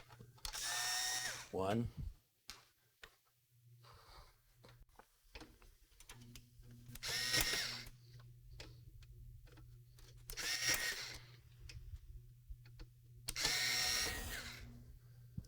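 A small screwdriver unscrews the four corner screws holding a mini ITX motherboard in a case, with several short bursts of quiet ratcheting and whirring separated by pauses, and brief speech at the start.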